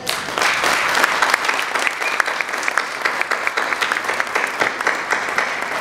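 An audience applauds at a film gala night, with dense, steady clapping that holds at full strength from start to finish, sharp individual claps poking through the continuous wash.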